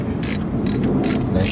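A socket ratchet turns a stuck bolt on a Yukon 1500, giving four quick bursts of close, sharp clicking with short pauses in between.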